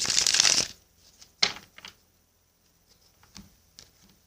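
Tarot cards being shuffled by hand, a brisk riffle at the start followed by a few softer, scattered card slaps and taps, close and quiet with no talking.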